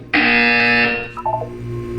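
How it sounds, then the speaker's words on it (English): A loud electronic buzzer from the video game Portal 2 sounds for about a second, then fades, followed by softer tonal blips and a low hum. "When you hear the buzzer, look up at the ceiling."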